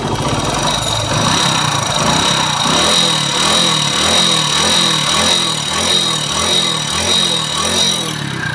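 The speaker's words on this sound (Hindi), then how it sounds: "इंजन का थोड़ा और सही से यानी कि हम साउंड सुना देते हैं अभी" A rebuilt Hero HF Deluxe motorcycle engine idles loudly and steadily, with a rhythmic low chugging and a bright mechanical whine over it, with no voices.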